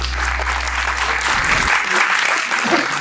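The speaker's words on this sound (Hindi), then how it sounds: "इस फिल्म के लिए जोरदार तालियां।" An audience at a book launch in Chandigarh breaks into loud applause for a film, a thick, sustained burst of clapping that begins over a low hum and continues strongly throughout.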